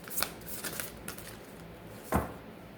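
Tarot cards being shuffled by hand in a quiet room, with a few soft riffling bursts early on and one sharper snap of cards near the end.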